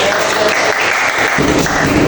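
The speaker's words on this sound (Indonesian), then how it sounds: "tepuk tangan untuk kita semua" A classroom group of teacher trainees at a university in Indonesia breaks into brief, loud, close clapping that fills the room throughout.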